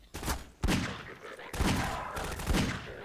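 Revolver shots in Half-Life 2: four heavy booming reports in quick succession, each with a lingering echo tail, loud and close with no talk over them.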